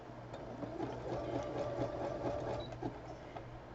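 Sewing machine running a wide zigzag stitch on patchwork fabric for a table cloth, a steady fast mechanical whirring with a rapid rhythmic needle tapping, moderately quiet and continuous throughout.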